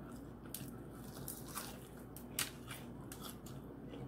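Close-up crisp crunching bites into flaming hot chicken wings, several sharp crackling bursts scattered over a few seconds against a quiet low hum, no talking.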